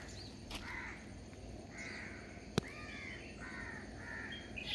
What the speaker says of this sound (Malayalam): കിളികളുടെ ഒച്ചയും വിളിയും കാക്കകളുടെ ഒച്ചയൊക്കെ ആണല്ലോ അധികം ഉണ്ടാവുക